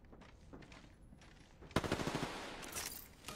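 Automatic weapon fire from Apex Legends gameplay bursts in loud at about the midpoint, a dense rapid rattle of close shots continuing to the end over quieter game sounds.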